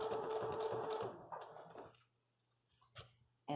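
Sewing machine stitching bias tape onto a Celtic quilt square, a soft steady whirring hum for about two seconds that then stops, leaving quiet with a few faint clicks and handling noises.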